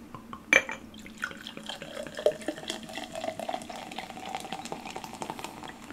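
Homemade raw ginger ale pours and fizzes quietly, with small drips and bubbling crackles after a brief clink at the start.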